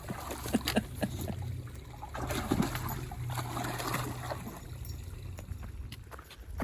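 A dog splashes through a shallow stream at a bridge on a hiking trail near Day Pond State Park, Connecticut, with irregular watery splashes and trickling under a steady outdoor rumble.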